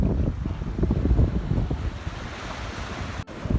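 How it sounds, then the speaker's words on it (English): Surf washes steadily onto an O'ahu beach with clear, calm water, a continuous rolling roar mixed with buffeting wind noise on the microphone, close and loud throughout with no talking. "Just hanging out at the beach"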